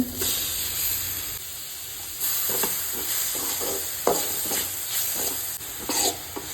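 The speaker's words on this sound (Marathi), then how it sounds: "आतां कांदो टमाट आनी ग्रीन चिली जी आसा पळय न्हू ती आमी 5 मिनटां सुमार तळसून घेवया" Onion, tomato and green chili frying in a pan for a Goan egg curry, a steady loud sizzle with intermittent stirring clicks and scrapes of a utensil throughout, no speech.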